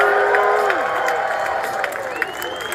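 A crowd at a reparations rally cheers and shouts loudly, with whoops and rising voices blending into a continuous roar.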